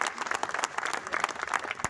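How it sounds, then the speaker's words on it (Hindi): A crowd at a farewell and welcome ceremony for subdivisional officers in Barh applauds in a dense, steady burst of many hands clapping at once. The applause is fairly loud and continuous, with no clear voices above it. "सुदर्शन के लिए ताली एक बार जोरदार बजाइए भाई।"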